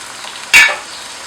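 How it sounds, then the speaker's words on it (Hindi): Potatoes and spices tipped into a pan of frying onions and tomatoes for aloo baingan, a single sharp burst of sizzle that flares loudly then fades back to a low steady frying hiss, close with no voices. "अब इसमें मैं डाल दूँगी आलू और साथ में इसमें मैं स्पाइसेस डाल दूँगी"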